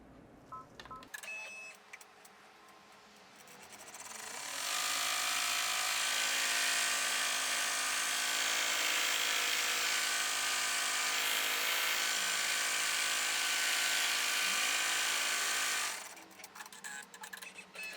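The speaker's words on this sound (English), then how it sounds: "I'm going to put it back in the machine, and we're going to sew out our last step, which is our tack down and final stitch" An embroidery machine stitches the tack-down and final pass on an in-the-hoop sleep mask, a loud, steady, buzzing whir that runs unbroken for about ten seconds, framed by quieter clicks and handling at each end.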